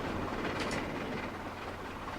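A train rolls steadily along rails near a mountain, giving a continuous low rumble and dense rail noise throughout with no speech.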